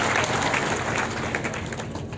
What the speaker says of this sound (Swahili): Tupigie Mungu makofi